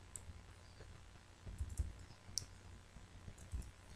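Keyboard keys tapped during computer work, with the Enter key pressed to confirm a line of code; faint, sparse clicks at close range over a quiet room with no speech.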